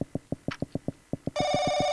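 Telephone ringing in the horror game Paranoiac: a steady train of evenly spaced electronic trills, then a brighter sustained ring tone takes over, loud and close with no one talking.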